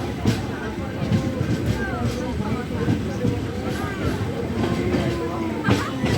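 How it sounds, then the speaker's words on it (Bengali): The Howrah–Radhikapur Kulik Express pulls into Prantik station with a continuous low rumble and faint wheel clatter from inside the train, while someone talks over the noise. "এখন আমাদের ট্রেন এসে পৌঁছলো তার যাত্রাপথের দ্বিতীয় স্টেশন প্রান্তিক স্টেশন"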